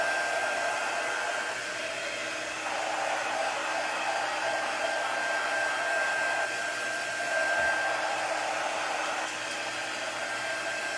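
A hair dryer blows steadily and evenly to dry a craft project, a continuous close whooshing hiss that holds for the whole stretch with no talking.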